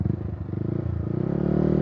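A 2020 Yamaha YZF R125 motorcycle with a 125 cc engine, idling close by with a throbbing rhythmic pulse that builds steadily louder as the revs rise, with no voices.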